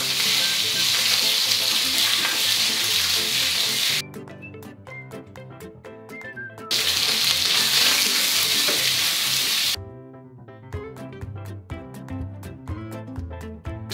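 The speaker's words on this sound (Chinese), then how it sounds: "你在那个煎这个三层肉的时候会有一点喷哦" Skin-on pork belly sizzles and spits loudly in a hot, lightly oiled pan, two long bursts of frying noise broken by quieter stretches of clinking and crackle, with no talk.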